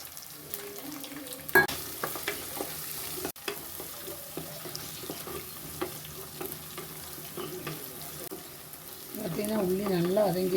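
Garlic or shallots sautéing in a pan for Kerala fish curry, a soft frying hiss broken by scattered clinks and scrapes of a spoon against the pan, with a fuller sizzle building at the end.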